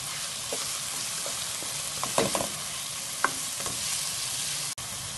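Tomatoes, rosemary and thyme sizzle in a pan for Jamaican seasoned rice with saltfish, a steady hiss broken by a few sharp scrapes and clacks of a stirring utensil.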